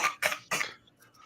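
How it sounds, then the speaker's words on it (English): A person clears their throat three times in quick succession, close and fairly loud, with a short quiet pause afterward. "Clear your throat."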